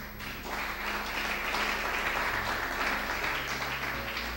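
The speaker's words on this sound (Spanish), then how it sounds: "¿Cuántos aplauden al Señor?" A church congregation claps in praise during a Spanish-language sermon, a steady wash of applause throughout with a low hum underneath.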